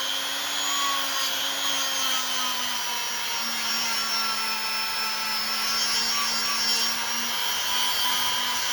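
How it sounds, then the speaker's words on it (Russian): Rotary tool grinding a knife blade, a steady high-pitched motor whine with a sustained abrasive hiss along the length of the blade, continuous and close, with no talking. "Тогда шлифовка ведется правильно."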